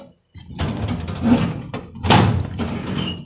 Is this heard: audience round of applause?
no